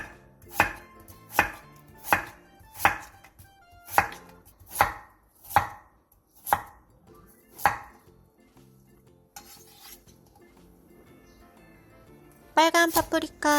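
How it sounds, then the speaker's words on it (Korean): A kitchen knife chopping Korean radish and napa cabbage on a cutting board: about ten crisp, evenly spaced chops, followed by a quieter pause and a brief clatter at the end. "무 3cm 두께의 한 토막을 먹기 좋게 나박 썰게 해주세요"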